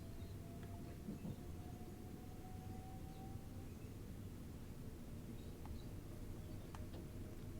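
A 12-coach train rolls past in Train Sim World 3 on the Brighton Main Line, giving a steady, continuous rumble and hiss with faint clanks throughout and no talking.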